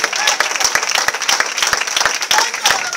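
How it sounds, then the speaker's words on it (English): A church congregation claps their hands during a Sunday service, with many loud, fast, scattered claps that run steadily under crowd noise and some voices throughout. "Somebody clap your hands for Jesus Christ."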